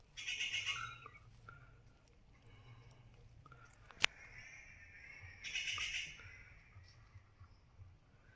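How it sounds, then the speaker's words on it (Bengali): Birds call faintly from a distance in a quiet sal forest, with two short bursts of chirping a few seconds apart and a single sharp click between them. "নির্জন জঙ্গলের মাঝে এই যে পাখিদের বিভিন্ন ধরনের আওয়াজ"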